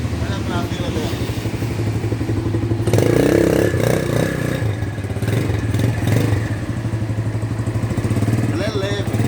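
A Shineray Jef 150 motorcycle engine runs steadily nearby, a pulsing mechanical drone with some clatter and a brief louder rev midway.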